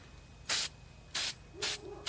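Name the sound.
spray can lightly spraying a glass bottle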